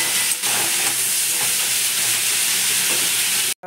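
Food sizzles steadily in hot oil in a pan, a dense continuous hiss with a few soft stirring scrapes, close and fairly loud, cut off abruptly at the end.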